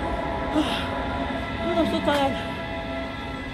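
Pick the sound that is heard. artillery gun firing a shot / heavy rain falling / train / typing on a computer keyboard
train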